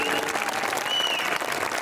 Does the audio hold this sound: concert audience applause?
yes